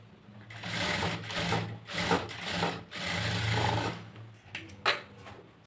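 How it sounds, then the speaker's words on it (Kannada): A sewing machine stitching the neck design of a blouse front, running in steady, rapid humming bursts of needle strokes with brief pauses in between, close and moderately quiet. "ಮೊದಲು ನಾನು ಸೆಂಟರ್ ಡಾಟ್ನ ಸ್ಟಿಚಿಂಗ್ ಮಾಡ್ಕೊತೀನಿ."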